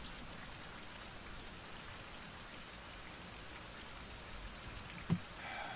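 Steady rain in a survival video game, a soft continuous hiss of drops falling on surfaces with one brief tap near the end, faint and with no talk.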